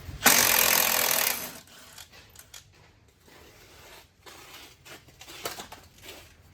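A hand or power tool loosens a part on the front axle of a 2009 Chevy 1500 4x4, giving a loud buzzing, rattling burst for about a second, followed by quieter intermittent clicks and scraping.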